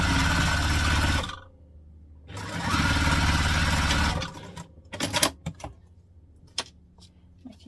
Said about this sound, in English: we're going to take it to the machine and we're just going to stitch down these sides